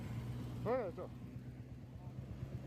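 A Royal Enfield Hunter motorcycle's engine idles steadily with a low, even thump as it pulls off in first gear on a ride. A brief voice rises over it early on, and the engine carries on unchanged.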